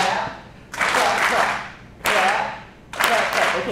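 A group of children claps and stomps in a steady rhythm, loud and close, with three bursts of clapping and thuds separated by short pauses during a music-and-movement activity.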